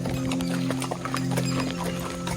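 A horse's hooves clip-clop in a steady rhythm during a horse ride on a trek at Matheran hill station, close and fairly loud against a low background hum.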